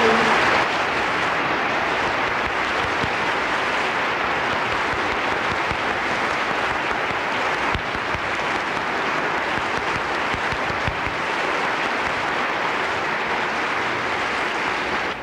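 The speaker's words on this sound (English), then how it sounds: "will you please give applause to the Honorable Benjamin Abeleya" An audience at a chamber orchestra evening applauds an honoured guest, a consul general, with dense, even clapping that holds loud and steady from start to finish, with no voices.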